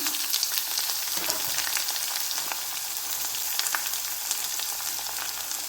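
Ginger and green chilies fry in a pan with a steady, loud sizzle and crackle that carries through unbroken, with no voices over it.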